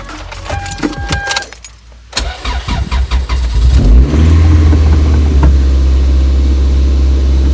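Keys jingle, then a turbocharged Toyota MR2 Spyder engine cranks and catches on its first start after a build, settling into a loud, steady idle with a deep rumble close by.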